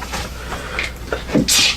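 A single sharp sneeze bursts out near the end during a tabletop Dungeons & Dragons session, loud and close after some soft background movement.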